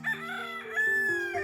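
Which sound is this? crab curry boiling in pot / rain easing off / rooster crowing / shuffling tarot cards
rooster crowing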